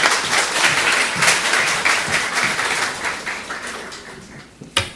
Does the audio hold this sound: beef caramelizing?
no